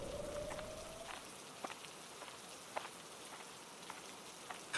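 Rain falling on surfaces, a steady soft wash with scattered sharper drips and drops, moderately faint and continuous, no voices.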